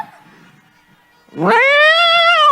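A person imitates a cat with a single drawn-out, rising meow after a brief quiet moment; loud and close.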